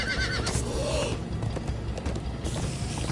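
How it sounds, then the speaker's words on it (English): Horses from Minecraft: Story Mode whinny loudly and gallop with steady clip-clop hoofbeats, close and continuous across the whole stretch with no talking over them. "Come on, horses!"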